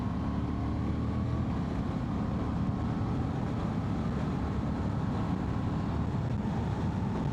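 Steady, loud roar of wind noise while riding a Honda XL750 Transalp motorcycle at about 70 mph in fifth gear, a constant broadband rush with engine drone underneath and no buffeting surges.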